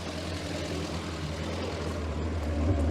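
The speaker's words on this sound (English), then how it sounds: "maybe the exhaust sounds a little fruity" Steady low rumbling exhaust of a scrapyard Morris Minor running after sitting unused for nine years, a continuous close drone that swells slightly toward the end.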